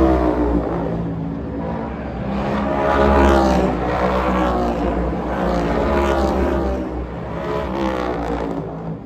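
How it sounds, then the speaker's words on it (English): NASCAR race cars roar through the downtown Chicago street course, loud engine drones rising and falling as cars pass in overlapping waves, with no talk over them. "seeing and hearing cars ripping through the streets of downtown Chicago"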